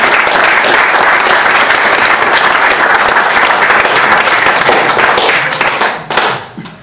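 Sustained applause from a large crowd, dense and loud clapping that holds steady for several seconds before tapering off.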